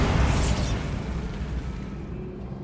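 A Bombarda spell explosion in the video game Hogwarts Legacy, a heavy low boom with a rumbling tail that fades over about two seconds.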